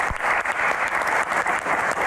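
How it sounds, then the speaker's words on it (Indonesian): A crowd of audience members, including university students, claps steadily through a Q&A evening event, a dense even wash of applause with no talking on top. "Tepuk tangan."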